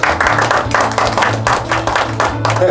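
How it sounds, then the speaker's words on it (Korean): Audience at a corporate ceremony of a pro sports club applauding, steady and dense clapping throughout with a low musical tone underneath. "자, 박수 부탁드리겠습니다."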